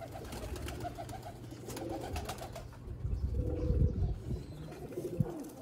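Sialkoti rooftop pigeons cooing, several overlapping low throaty coos from a flock nearby, steady and moderately loud throughout, swelling slightly toward the end, with no speech.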